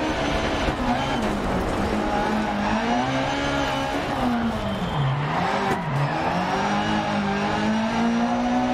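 Rally car racing on asphalt in DiRT Rally 2.0, a loud continuous engine drone rising and falling through gear changes and throttle dips, with faint tire noise and a voice talking over it.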